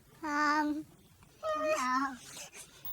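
A cat meows twice, close and clear, two drawn-out calls with a brief pause between, alongside faint talk in the background.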